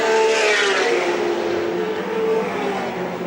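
1984 Australian Touring Car Championship race cars at Lakeside circuit running close together onto the main straight, a loud sustained engine roar and tire noise sweeping past nearby, with no talk over it.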